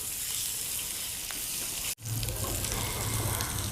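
Pieces of meat for Hyderabadi tala hua gosht fry in hot oil with a steady, close sizzle throughout, broken by a brief drop around the midpoint before the crackling resumes.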